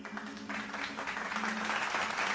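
Applause from villagers in a barrio gathering, steady dense clapping that fills the whole stretch at moderate loudness, with a faint low tone beneath.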